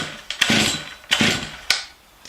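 Chainsaw being pull-started cold with the choke on, its carburetor sputtering: three loud rasping bursts about half a second each that catch briefly and die away, with no steady idle between.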